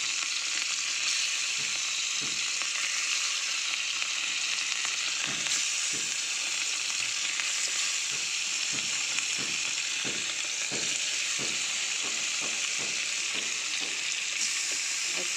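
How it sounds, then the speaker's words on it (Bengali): Fish frying in hot oil in a pan crackles with a steady, dense sizzle, with soft scraping and clicking from stirring scattered through. "তো চলো মাছগুলো এখন ভেজে নিই।"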